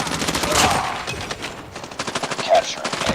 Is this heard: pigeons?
no